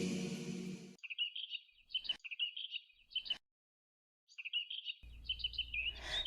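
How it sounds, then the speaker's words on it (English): Birds chirp on a sunny day in a cartoon, with clear high tweets repeated in short bursts and a pause between groups, fairly near and moderately loud, with some background music at the start and end. "the birds are chirping"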